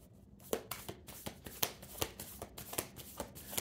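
Tarot cards being shuffled close by, soft riffling flicks and slaps in a quick uneven rhythm, quiet and alone without talk.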